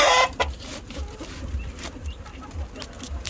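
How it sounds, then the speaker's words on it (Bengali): Layer and tiger chickens being fed papaya leaves cluck in short repeated bursts close by, over light rustling and scattered background noise. "এই পাশে লেয়ার মুরগিকে এবং টাইগার মুরগিকে দেওয়ার জন্য"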